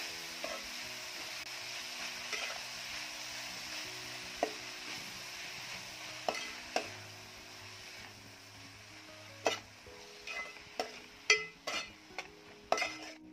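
Coarsely chopped fenugreek leaves are stirred with onion in a pan, giving a soft continuous sizzle. The spoon scrapes and clinks against the pan in sharp taps that grow more frequent toward the end, with no talking.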